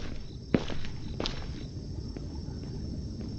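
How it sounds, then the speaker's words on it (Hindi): Footsteps climbing stairs in the video game Akai Onna: a few soft, spaced thuds over a low background drone, one sharper knock early on. "मुझे अपने पैरों की आवाज़ के अलावा किसी के पैरों की आवाज़ आ रही है"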